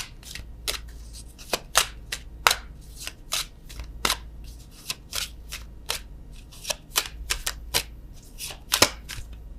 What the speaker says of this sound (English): let's get a love oracle card